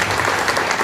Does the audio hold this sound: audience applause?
yes